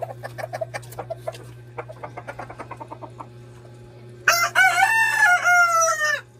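A rooster crows once loudly and close by, following a run of soft clucks, with a low steady hum underneath.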